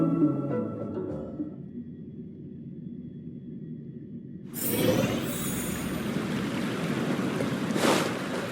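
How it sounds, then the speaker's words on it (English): Restless wind and surging waves from the video game Honkai: Star Rail rise abruptly about halfway through, a broad, steady rush of surf and gusts following a quieter stretch of soft background music. "The wind and waves are restless around..."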